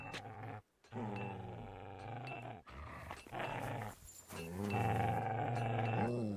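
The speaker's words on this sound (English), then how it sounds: "Doggy." A dog growls in Kingdom Come Deliverance 2, a run of low, rough snarls broken by short pauses, close and clear, rising in intensity toward the end.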